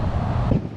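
Strong wind buffets the microphone outdoors on rocky terrain, a loud continuous low rumble filling the whole short moment with no voices.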